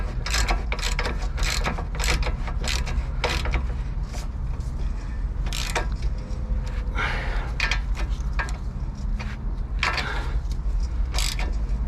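A ratchet wrench tightens the ball joint collar bolt on a Nissan 350Z's banana arm, clicking in quick, close bursts with short pauses, continuous and fairly loud over a low background rumble.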